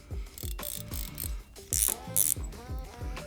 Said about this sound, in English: Let's hear the drag. It's very quiet.